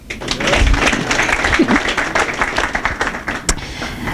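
A crowd at a REBOOT class event in Irvine, California breaks into applause, a lively, uneven round of clapping with a few sharper individual claps and faint voices mixed in.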